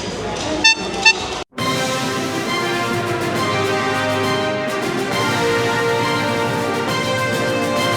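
Car horns honk twice in quick succession over a steady background of music and crowd noise, followed by a long sustained honk.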